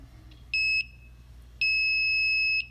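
Two electronic beeps from an Arduino-based robot sensor, a short one followed by a longer one, sharp and high-pitched against a quiet room.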